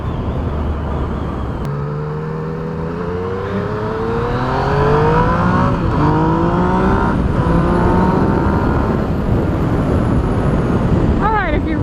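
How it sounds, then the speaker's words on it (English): Yamaha FZ-09/MT-09 motorcycle accelerating hard, its engine note climbing through several rising gear pulls with loud wind rush, recorded from the rider's position with speech over it. "if you're really accelerating hard, kind of a little bit of a flat spot"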